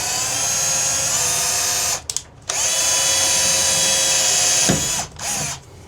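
A power drill drives a self-tapping screw into a Ram Promaster door, its motor whining loudly up close in two long runs split by a brief stop, then winding down and pausing near the end.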